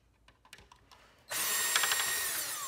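Power drill running steadily on screws inside a Fellowes paper shredder during a teardown, starting abruptly after a few small clicks and handling noises and whirring loudly and continuously to the end.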